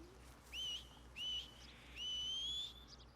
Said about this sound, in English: I've got the ability to whistle for him.